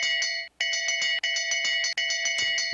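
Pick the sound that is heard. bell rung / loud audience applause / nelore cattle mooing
bell rung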